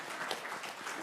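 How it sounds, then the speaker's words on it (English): A crowd claps steadily at a school board of education meeting, a dense wash of many hands throughout the short moment. "You can clap for that."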